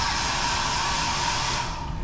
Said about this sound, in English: It is a built-in hairdryer.